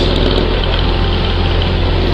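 A Ducati motorcycle engine idles or runs steadily nearby, a continuous low mechanical drone with no talk over it.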